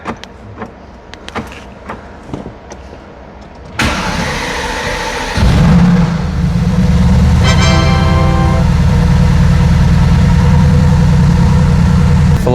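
A Mercedes-AMG M177/178 engine fitted with VRP turbo manifolds starts after a few light clicks and a loud burst of noise, then settles into a deep, steady, close idle rumble that continues to the end.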